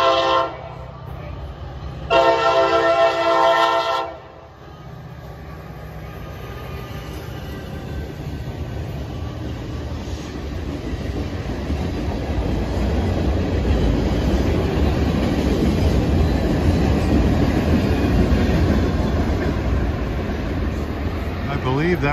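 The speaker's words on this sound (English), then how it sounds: "That was the H31 local out of Reading with unusual power." A freight train, a Norfolk Southern local led by an SD40E locomotive, rumbles steadily past for a long stretch after a brief loud horn blast, the roar of rolling cars filling the scene without pause.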